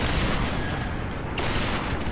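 Gunfire from Call of Duty Modern Warfare Remastered, a dense continuous burst of shots sounding close and loud, with a brief sharper crack partway through and no talking.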